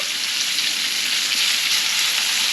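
Fish fillets pan frying for a simple camp dinner give off a steady, close sizzle, bright and continuous throughout.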